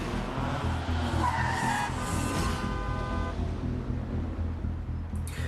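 A car skids hard during a chase, its tires squealing loudly in a long rising screech over a rumbling engine and some background noise, fading toward the end.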